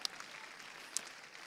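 Crowd applause rolls through an arena at a show jumping event, a soft continuous patter of distant clapping with a couple of sharper claps standing out.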